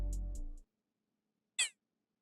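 Short percussive perc hit at the end of an ambient beat: a deep bass-and-hat loop stops, silence follows, then one bright, chirpy, pitched percussion hit sounds alone.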